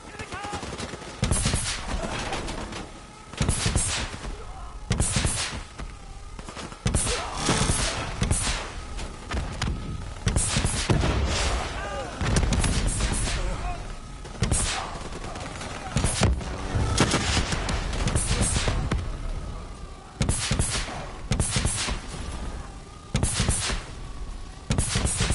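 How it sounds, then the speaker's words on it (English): Gunfire in Call of Duty Black Ops 3, repeated loud bursts and rapid automatic shots in irregular clusters across the whole stretch, with brief gaps between volleys and a voice talking at times. "Shoot down those bats."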